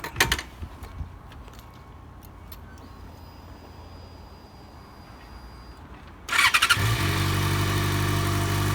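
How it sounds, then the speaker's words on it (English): After several quiet seconds with a few faint clicks, a motorcycle engine cranks and catches, then settles into a loud, steady idle close by. "you've got to start your engine"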